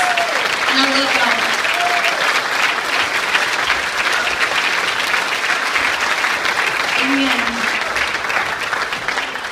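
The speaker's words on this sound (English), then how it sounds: "y'all give them a great round of applause" A graduation audience breaks into loud, continuous applause, steady clapping throughout with a few faint cheers or voices rising briefly above it.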